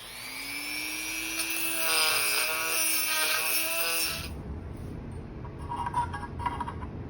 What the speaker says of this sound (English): And a little cleanup with the Dremel.